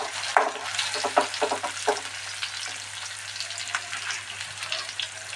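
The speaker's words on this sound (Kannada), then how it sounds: "ಇದು ಫ್ರೈ ಆಗಲಿ." Onions fry in a pan with a steady close sizzle, punctuated early by a few stirring scrapes and taps, with no voices.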